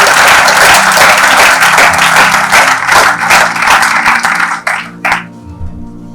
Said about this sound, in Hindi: एक बार आपके लिए स्वयं एक बार जोरदार तालियां।